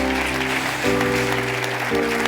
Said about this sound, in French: Quelqu'un acclame Jésus.